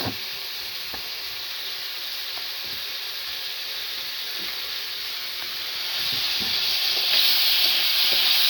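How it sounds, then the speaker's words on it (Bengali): Fish sizzling in hot oil in a frying pan, a steady broadband hiss with faint crackles that swells louder toward the end. "এখন একটু এটা ফ্রাই করে নেব।"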